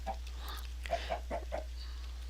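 Game chickens laying eggs in a Minecraft-style world cluck in a short, soft run of four or five calls over a steady low hum.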